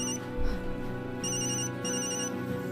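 A mobile phone left behind in a house rings with a repeating electronic melody ringtone, steady and moderately loud, looping its tune several times with no voices over it.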